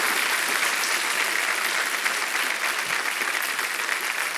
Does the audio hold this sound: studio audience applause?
yes